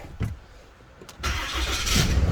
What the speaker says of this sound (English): I need to turn the engine on.